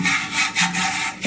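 A mixture is rubbed by hand onto the inside of an old clay water pot, a steady scraping rub with a few brief swells, close and alone.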